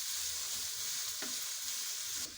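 Hot oil sizzles steadily as chopped ginger, green chillies and spices hit the pan for sabudana khichdi, a dense close frying hiss with a faint clink near the end and no talk.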